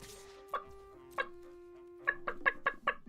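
Cartoonish chicken clucking from the MTG Arena card game, a few spaced clucks followed by a quick rhythmic burst of five or six, over a steady low musical drone.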